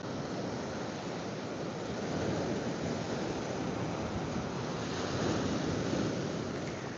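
Ocean waves breaking on a beach at high tide near a lighthouse, a steady loud wash of surf swelling slightly midway, with wind noise on the microphone and no voices.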